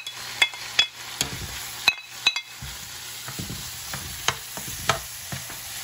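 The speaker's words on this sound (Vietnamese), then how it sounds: "Khi mình xào mình thấy cái nấm nó hơi vừa chín" Meat and mushrooms stir-fried for tacos in a pan: a steady sizzle under sharp, repeated clacks and scrapes of a utensil against the pan, close and fairly loud, with no talking.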